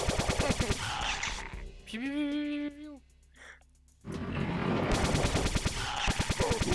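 A weapon fires in a zombie video game in fast bursts of loud, close shots at the start and end. A quieter stretch in the middle holds a drawn-out tonal sound and a brief near-silence.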